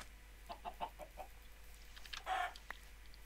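Chickens in Minecraft give a few short, faint clucks in a quick cluster, then a brief louder squawk, heard alone over quiet game background.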